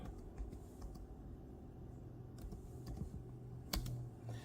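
Soft keystrokes on a Chromebook keyboard as a password is entered, a scattered series of light clicks ending in a firmer tap, close but quiet over faint room noise.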